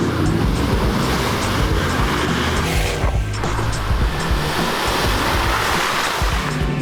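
Electric vehicle pushing through a muddy puddle on an off-road track, with continuous loud splashing and sloshing water churn, a brief dip around the middle, then steady surging spray throughout.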